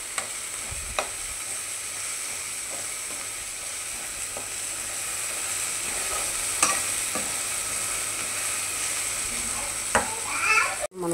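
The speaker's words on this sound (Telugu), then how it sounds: "చాలా మంచిగా టమాటా అన్నీ మగ్గుతుంది మనకి. అల్లం పేస్టును పసుపు వేసేసుకున్నాం మనము." Tomatoes with ginger paste and turmeric sizzle in a pan for banana flower curry, a steady soft frying hiss with a few clinking stirs of a spoon, close by and without talk.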